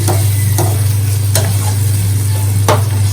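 Stuffed eggplants for a Telugu gutti vankaya curry are tossed into a pan and stirred, with four sharp scraping clatters over a steady sizzle and a constant low hum from the stove.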